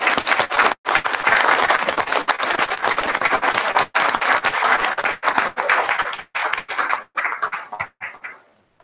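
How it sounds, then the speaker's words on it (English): Audience at a city council meeting in Seven Hills breaks into loud, sustained applause, a dense wash of clapping hands running for several seconds with brief breaks before tapering off at the end. "I haven't heard that much applause since inauguration"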